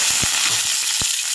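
Onions frying in a pan for a kangkong and mushroom dish, a steady close hiss of sizzling oil with a few soft clicks and taps over it.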